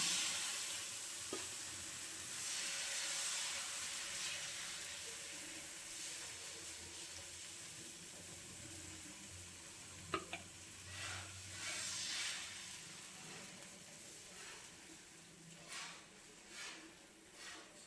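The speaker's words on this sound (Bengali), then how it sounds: "এরপর উপর থেকে সাদা ব্যাটারটা ছড়িয়ে দেবো।" White batter for patishapta pitha spread on a hot pan, giving a steady soft sizzle with light scraping and stirring touches and a few small clinks, fairly quiet and close, no talking.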